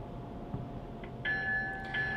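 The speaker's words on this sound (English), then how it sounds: "Oh, that's an E bell" A small electronic E bell from a model locomotive sound decoder rings with a sustained metallic tone, faint and thin, starting partway through over a low background hum.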